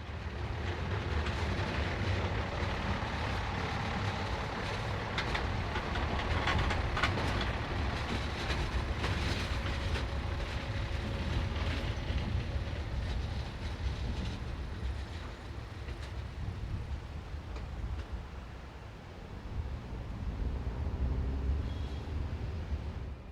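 A DB Regio Burgenlandbahn Class 672 railcar rolls past at a station, its wheels rumbling and clattering steadily over the track for a long, even stretch before the sound eases slightly near the end.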